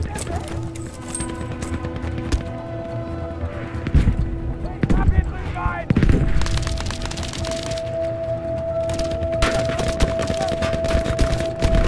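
Gunfire from a weapon in the video game Battlefield V: scattered sharp shots and short bursts over a dense, steady battle din, with a few louder cracks near the middle and a voice talking over it.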